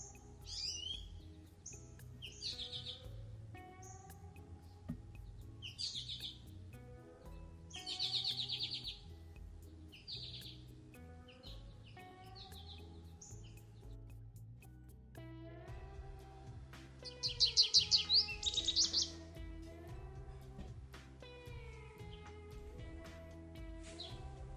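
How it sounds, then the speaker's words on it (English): Recorded song of an American goldfinch: a string of bright, high chirps and twittering phrases in short bursts with pauses between, over a faint low background hum, with a louder, denser burst near the end. "let's try American goldfinch"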